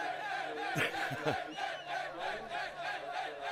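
Mercedes team crew cheering together at the DTM championship finale at Hockenheim, a distant crowd of voices with a few shouted whoops rising over a steady murmuring din.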